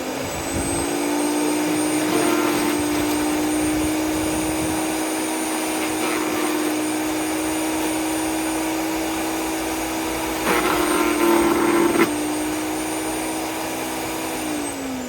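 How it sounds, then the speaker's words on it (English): Garden shredder powered from a portable power station, running as a loud, steady motor whine and whir throughout, with a brief surge in intensity near the end. "Right, I've got the shredder out. The shredder's attached to my portable power station."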